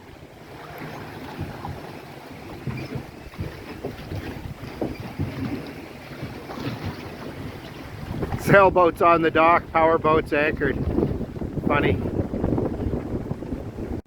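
Strong sustained wind at a Big Rideau Lake dock buffets the microphone with rumbling gusts and lapping water, while people talk over it and a bird chirps briefly.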